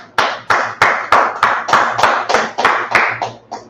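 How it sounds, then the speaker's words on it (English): Eleven sharp hand claps in a steady, even rhythm, close and loud with no voices over them. "clap it up"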